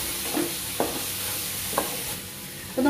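Ripe banana frying with sugar in a pan, stirred by hand, giving a soft steady sizzle broken by a few scraping stirs at close range.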